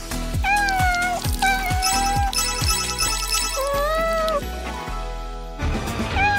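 Repeated meows from a cat, loud and close, rising and falling in pitch over a busy backdrop of rhythmic music, several calls spread across the stretch.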